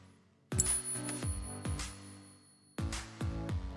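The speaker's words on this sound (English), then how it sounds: "This is the sound of real silver right here." A 90% silver coin is pinged and rings out with a bright, sustained metallic tone, struck in two quick bursts of several taps each with a long clear ring between them; close and fairly quiet, with no talking.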